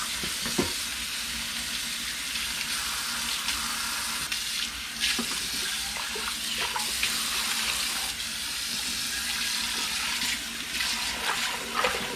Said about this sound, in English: Put the fresh water into the pot.